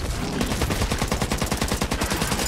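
Rapid automatic gunfire in a survival shooter game, a dense, loud stream of shots at a steady fast rhythm throughout the short burst.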